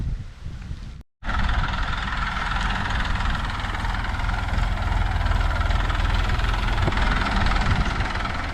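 A farm tractor engine runs steadily close by, a low, rumbling drone with a knocking pulse. It cuts out for a moment near the start, then continues at an even level to the end with no voices.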